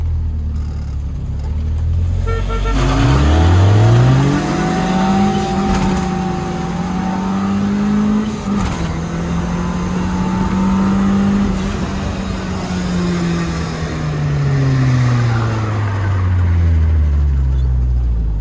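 Modified cars at a race event rev and launch, one engine climbing sharply, then holding a loud, sustained wavering roar through the run before tapering off, with no talking.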